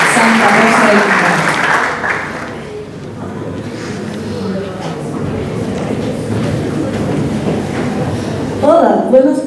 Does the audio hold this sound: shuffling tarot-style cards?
no